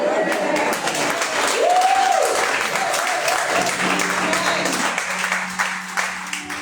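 A church congregation claps in steady, sustained applause that fills the space. A voice briefly rises over the crowd, and people talk beneath the clapping.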